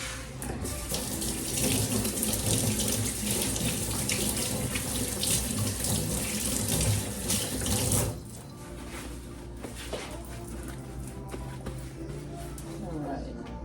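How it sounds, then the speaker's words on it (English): Hands are washed under a running kitchen tap while Cornish hens are prepared. Water rushes steadily and loudly into the sink, then drops to a softer, continuing flow after about eight seconds. "Wash my hand."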